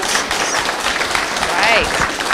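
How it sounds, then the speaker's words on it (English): An audience at a city and county candidate forum claps in a steady, even burst of applause lasting a couple of seconds, with voices mixed in. "How about a round of applause for these groups for putting on the event?"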